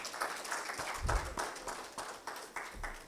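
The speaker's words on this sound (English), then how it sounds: "A round of applause for the three presenters again," Attendees of a breakout-room conference session clap for three presenters. The applause is fairly quiet and somewhat distant, with individual claps standing out in an uneven patter that swells and thins across a few seconds.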